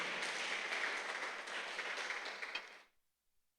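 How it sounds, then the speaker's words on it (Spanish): Congregation clapping during a church service, a dense broadband wash of many hands applauding steadily for nearly three seconds before cutting off into silence. "Fuerte el aplauso a nuestro gran Dios."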